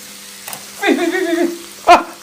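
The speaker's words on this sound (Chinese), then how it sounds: "一定得把这鱿鱼按到铁板上使劲煎，让它充分的和铁板结合" Squid pressed hard onto a hot iron griddle gives a close sizzle that swells for about half a second, then a second short burst of frying.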